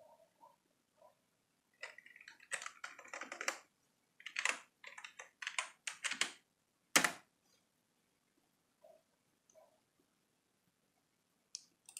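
Keystrokes on a computer keyboard as a command is typed at a terminal, with several quick bursts of clicking taps separated by pauses, close and fairly loud, with no talking.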